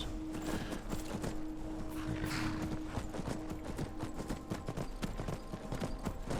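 Steady rhythmic clip-clop of horse hooves trotting at an even pace in a video game, close and continuous, with no talking.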